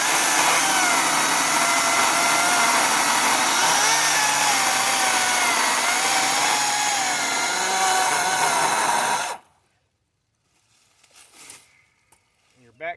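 Kobalt 40V Max battery chainsaw cutting through a cedar tree outdoors, a loud, close, continuous electric motor whine with chain rasp that runs steadily for about nine seconds, then stops abruptly, leaving quiet rustling.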